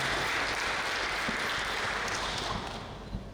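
A fairly quiet round of applause greets the Director General at an Indonesian land-affairs announcement, dense clapping that holds steady and then thins out near the end.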